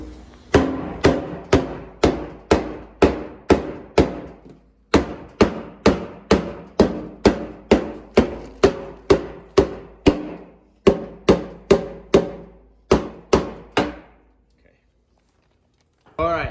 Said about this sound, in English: Let me grab a bigger hammer.